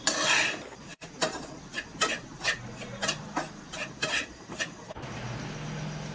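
Grated dry coconut roasts in a pan on a low gas flame for coconut laddoos, with a spatula clicking and scraping against the metal in a quick, steady rhythm of light taps, close up and moderately loud.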